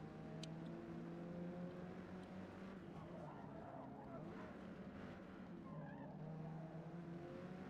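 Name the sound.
Hyundai Veloster N Forza Edition driving, tires skidding, Forza video game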